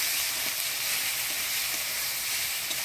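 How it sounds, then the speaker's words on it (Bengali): Garlic-onion paste, chili paste, turmeric and salt sizzling steadily in a pan while being stirred, a continuous close frying hiss with faint scraping, in a Bengali village kitchen. "দিয়ে দেবো হলুদ, লবণ দিয়ে ভালো করে নাড়াচাড়া করে নেব"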